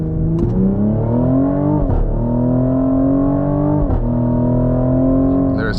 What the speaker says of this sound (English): Oh, this car is just a monster sometimes.